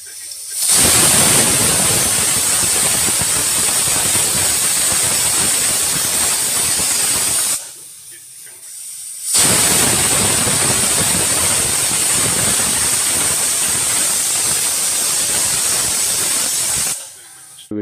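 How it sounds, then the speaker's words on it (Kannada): A pressure cooker holding chappara avarekayi (flat beans) and masala lets out two long, loud whistling hisses of escaping steam, each lasting several seconds, with a short quiet gap between them. "ವಿಷಲ್ ಆಗಿದೆ."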